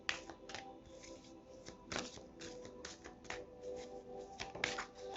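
Tarot cards are shuffled and drawn by hand, giving a quiet, steady patter of papery flicks and riffles with a few sharper snaps, close to the microphone.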